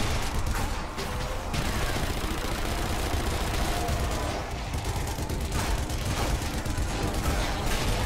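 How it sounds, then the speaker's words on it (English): A dense, continuous barrage of gunfire fills a foggy, creepy town in Zombie Army Trilogy, with a zombie shooting a gun amid the loud, unbroken rattle of shots. "There's a zombie shooting a gun."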